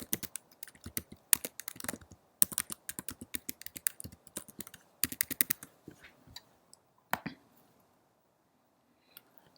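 Login details being typed on a computer keyboard: rapid, clattering bursts of keystrokes that start and stop over several seconds, then thin out to a few isolated taps, close up with no talking.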